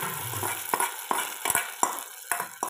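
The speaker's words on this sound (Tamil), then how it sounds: "நல்லா மிக்ஸ் பண்ணி விட்ருங்க." Millet ven pongal (varagu arisi) is stirred in a pan with a spoon, giving a series of close, separate scraping and sizzling strokes at an uneven rhythm, with no voices.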